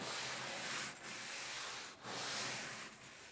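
A stiff brush scrubs a wooden deck in long, steady strokes, each a rough broadband rasp with brief gaps between three or four passes, close and fairly loud.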